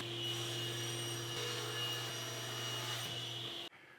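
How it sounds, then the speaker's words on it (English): A power saw rips wooden boards to rough width for a through-tenon bookcase, a steady loud machine drone with strong hum and high whine that runs continuously and cuts off abruptly near the end. "For now, I'm just ripping these boards to rough width"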